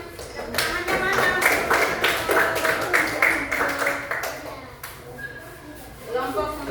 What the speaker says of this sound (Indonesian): Tepuk tangan dulu kelompok 1. Tepuk tangan.